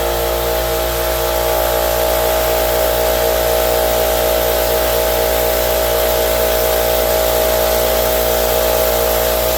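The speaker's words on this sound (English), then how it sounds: "Get my air compressor on. It's gonna be loud." An air compressor runs steadily and loudly in a workshop where door handle holes are being drilled, a constant droning hum with a mechanical whine that holds unbroken throughout, with no talking over it.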